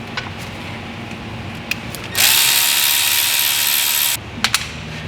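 On a 2000 Ford F350 diesel, a power tool runs in one loud burst of about two seconds while loosening screws on the 4WD locking actuator, with light clicks before and after.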